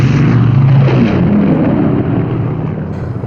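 A Japanese patrol plane flying over an island gives a loud, steady engine roar that slowly fades as it passes, with no voices heard.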